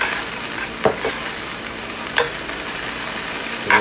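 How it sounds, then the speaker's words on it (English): Onions and green pepper caramelizing in a pan, a loud steady sizzle with three distinct scraping stirs of a utensil spaced a second or so apart, no one speaking. "we're caramelizing the onions now in the pan"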